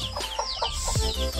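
Chickens clucking in a village near a Darjeeling tea garden: a series of short, close, throaty calls in quick succession over a steady outdoor background hum, with no talking.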